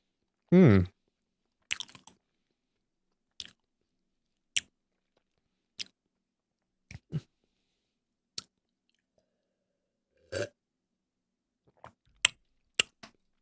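Strawberry-filled mochi chewed up close, a soft squishy bite followed by sparse, isolated wet smacks and chews separated by long silences.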